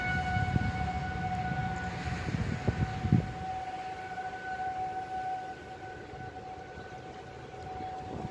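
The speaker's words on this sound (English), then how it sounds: "I don't know if that's the Chicago's weather sirens, tornado sirens going off" A tornado warning siren wails outdoors during threatening weather, a long sustained steady tone from a distance, with a few thumps and rumbles early on before the siren continues alone.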